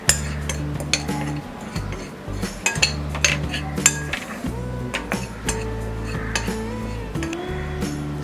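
Spices, turmeric and baking powder being mixed into gram flour in a bowl for bread pakora batter, with close, irregular clinks and scrapes of a spoon against the bowl over a steady low hum, no talking.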